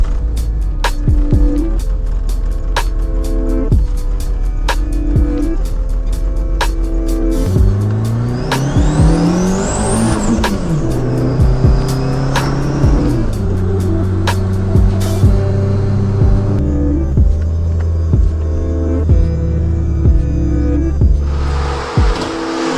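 Car driven on a test run after intake piping work, engine loud and close with rising and falling revs, shifts and brief tire squeal, continuous throughout with no voices.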